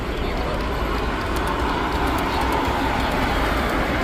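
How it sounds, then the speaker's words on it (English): O gauge model trains run around a layout at a train and toy show in Monroeville, PA, with a steady close rumble and rolling wheel noise under a busy crowd murmur. "We have a lot of trains running on this one. We're at O gauge here."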